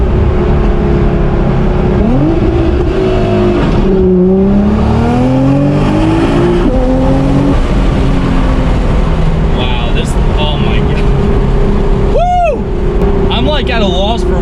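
A Nissan R35 GTR with an HKS GT1000+ turbo kit, around 1300 bhp, accelerates hard beside a roadside divider, its engine note rising through the gears, loud and close, with a person talking over it.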